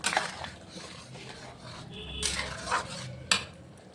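Capsicum being stirred into pasta sauce in a pan, with a handful of scattered utensil clinks and scrapes against the cookware, fairly quiet and close, with no talking.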